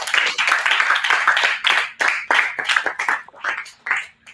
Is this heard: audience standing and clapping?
yes